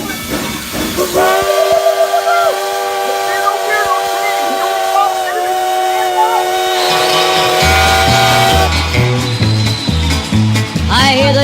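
A steam train whistle sounds loud and close as a long sustained blast with a hissing edge, then gives way to rhythmic music underneath.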